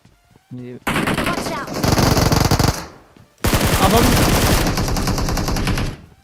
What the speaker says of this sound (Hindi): लेफ्ट साइड में उसी टाइम पे गन साउंड आया